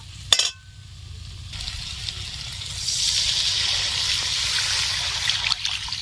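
Water poured into a pan of sizzling fried spices to make a thin fish curry broth: a sharp clink, then a rising hiss and bubbling that grows louder and steadier.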